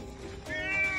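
A cat rescued from building rubble in Ukraine gives a brief, faint meow over a noisy outdoor background.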